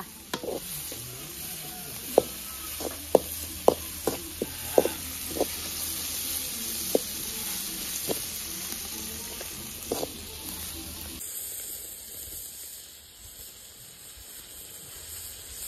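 Curry ingredients sizzle and fry in a pan while being stirred, with a steady close hiss broken by a series of sharp scraping and clattering hits of the spoon, then a quieter, smoother sizzle toward the end.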